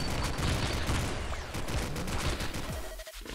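Gunfire and explosive blasts from a rocket launcher in the side-scrolling shooter Super Mutant Alien Assault, a dense, continuous barrage of booms and shots that stays loud throughout, with a brief dip near the end.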